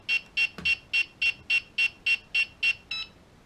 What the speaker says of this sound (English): that last beep would have indicated that it had bound to the receiver